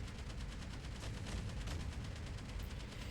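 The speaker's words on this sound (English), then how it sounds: "Let's go ahead and see the damage of the cannon now." Rapid, continuous booming gunfire from a heavy cannon in a video game, dense and steady throughout, with no pauses and no voices.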